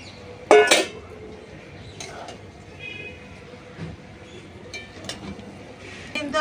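Potatoes and cauliflower stir-fried in spices in a pan for a Bengali cauliflower curry: scattered clinks and scrapes of a utensil against the pan, one sharp clatter near the start, with faint voices in the background.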